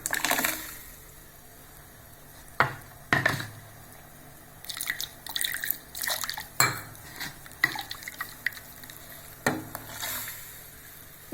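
Ground coconut paste is poured into a cooking pot for a Tamil meal maker kola kulambu, giving soft wet drips and splats punctuated by sharp metallic clinks of a utensil against the pot, all close and fairly quiet.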